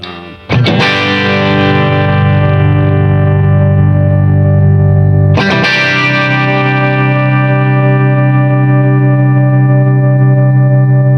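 Two loud electric guitar chords through a 1964 Fender Tremolux amplifier, each ringing out and slowly fading with a wavering tremolo shimmer, alone with no talking.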